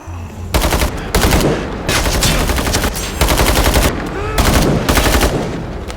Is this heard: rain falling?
no